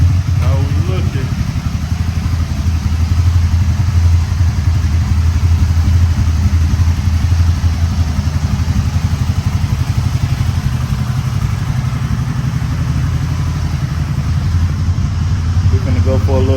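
A Can-Am Spyder three-wheel motorcycle engine running steadily at night in the city, a loud, continuous low rumble throughout with a slight clatter, no voices clearly audible over it.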